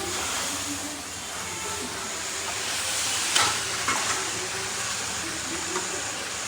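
Eggs frying in a pan in a home kitchen, giving a steady, soft sizzling hiss with a few brighter crackles, and a faint voice at times.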